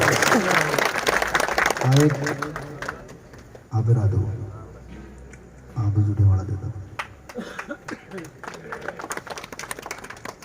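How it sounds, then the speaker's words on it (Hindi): An audience at an All India Bishnoi Mahasabha gathering claps loudly to welcome the national president, with broad continuous applause under someone speaking through a PA system in bursts. "एक बार आप तालियों से जोरदार स्वागत और अभिनंदन करें।"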